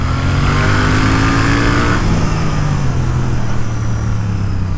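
Royal Enfield Interceptor Bear 650 twin engine revving hard past 5,600 RPM, a loud, close, steady roar with rising pitch that drops and settles partway through.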